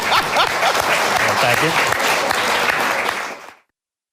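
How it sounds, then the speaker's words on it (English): An audience at an art museum talk breaks into loud, sustained applause for about three and a half seconds, with a voice speaking briefly over the clapping before it ends abruptly. "Don't you guys think you should get a round of applause for that?"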